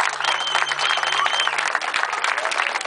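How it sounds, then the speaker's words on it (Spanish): Audience applause for councilwoman Gabriela Insunza at a PRI women's recognition event, a continuous crowd of clapping at full strength for about three seconds, with a faint whistle-like tone under the start. "un aplauso para ella, por favor"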